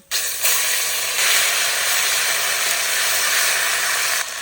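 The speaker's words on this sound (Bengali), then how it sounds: "তেলের উপর দিয়ে দেবো তেজপাতা, গোটা গরম মশলা, অল্প জিরে, পেঁয়াজ বাটা" Bay leaf, whole garam masala, cumin and onion paste hit hot oil in a village kitchen, producing a loud, steady sizzling hiss that starts abruptly and keeps up evenly until it drops off at the end.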